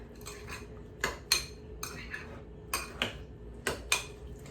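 Strawberries and sugar stirred with a utensil in a bowl, giving a series of sharp clinks and scrapes in irregular clusters, moderately close and fairly quiet with no talk.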